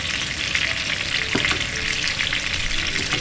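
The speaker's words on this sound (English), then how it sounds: "As you know, Bream is pretty a thick fish, so you just want it to fry all the way through." Thick bream fillets fry in hot oil with a dense, bubbling crackle that stays steady throughout, heard up close with a faint clink partway through and no talking.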